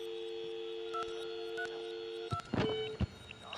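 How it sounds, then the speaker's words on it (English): Phone keypad beeps sound as a number is entered in the VR game Fiendish Fate on Quest 3S, several short tones in a row over a steady electronic hum, then clattering handset sounds. "We're going to pick up the phone, and now we're going to enter a number."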